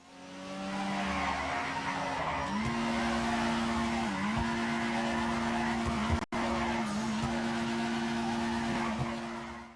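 A car drifting in GTA 5 with a long, loud tire squeal that holds steady, dipping in pitch a few times as the car slides, under continuous engine noise, with one brief cut near the middle.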